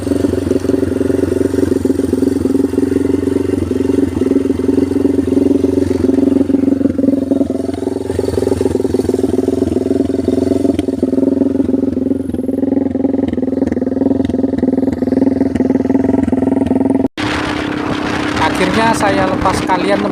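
A motorcycle with a loose exhaust tip rides along a road with a steady, loud, buzzing engine drone and wind rush lasting most of the time, before cutting abruptly to different, busier noise near the end.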